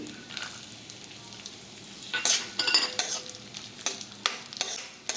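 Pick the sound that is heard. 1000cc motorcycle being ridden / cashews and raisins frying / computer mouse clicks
cashews and raisins frying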